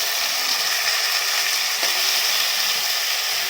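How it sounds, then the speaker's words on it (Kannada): Pre-cooked mutton frying with tomato and chillies in a pan, giving a steady, loud, hissing sizzle that runs unbroken throughout, with no voices. "ಅರ್ಧ kg ಮಟನ್ ಹಾಕ್ಕೊಂಡು ನೀಟಾಗಿ ಫ್ರೈ ಮಾಡ್ಕೊತಾ ಇದ್ದೀನಿ."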